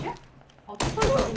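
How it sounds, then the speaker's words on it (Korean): Gunfire in an online shooter game breaks out in a loud, close burst of rapid shots after a quiet moment, with several sharp reports in quick succession. "너 총소리 왜 나한테 들리지?"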